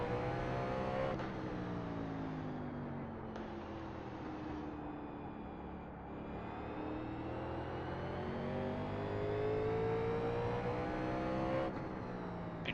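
A 1987 NASCAR stock car laps the Martinsville short track in the iRacing sim. Its engine drones loudly and steadily, rising and falling in pitch as the throttle comes on and lifts through the corners, with no voices.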